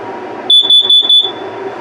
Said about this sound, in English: that is your LP and carbon monoxide detector. Now, I'll set it off for a test here